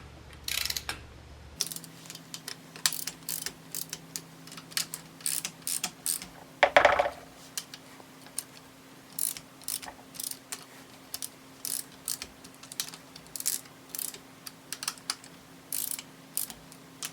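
Ratchet wrench clicking steadily as bolts on an LS engine rear main seal cover are snugged down in a crisscross pattern, close and fairly quiet, short bursts of rapid clicks repeating with brief pauses and one louder clunk.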